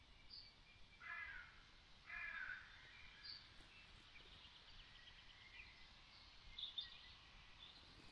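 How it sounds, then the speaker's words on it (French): A few faint crow-like caws and scattered bird calls ring out in a quiet forest, distant and sparse against soft background hiss. "Dans la forêt, les oiseaux chantent."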